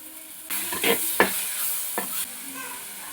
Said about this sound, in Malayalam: 2 ഉള്ളിയും 2 തക്കാളിയും മിക്സാക്കിയിട്ട് പിന്നെ വാട്ടൽ തുടങ്ങി